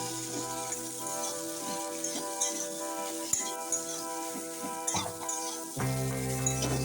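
Fried potatoes sizzle in a hot pan with occasional clinks of a stirring utensil as aloo dum cooks, under a steady background hum.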